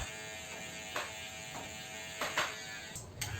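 An electric hair clipper buzzes steadily and close during a burst fade haircut, with short louder bursts as it passes through hair.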